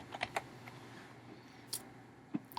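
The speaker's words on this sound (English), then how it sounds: "So we can start typing admission." Keys on a computer keyboard tap in a sparse, uneven run of light clicks with short gaps between them, faint against a quiet room hum.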